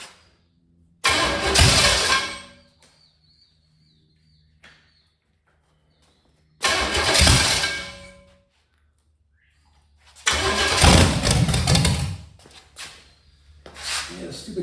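A 1985 Chevy Camaro small-block 400 V8 with retarded timing cranks and catches three times, each loud burst of starting and rough running dying out after a second or two, with quiet gaps between.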